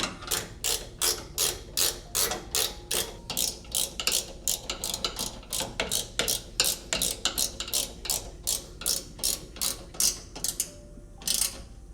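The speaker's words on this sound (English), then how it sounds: "Those top 2 are gonna need to be run down by a wrench." Rapid ratcheting clicks from a wrench tightening bolts on a 4th Gen Toyota Tacoma rear bed step, coming in steady bursts of back-and-forth strokes, close and clear with no talking.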